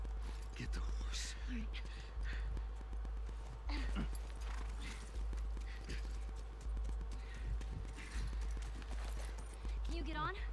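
A horse in the video game The Last of Us moves along with a steady, rhythmic clip-clop of hooves under faint, hushed voices.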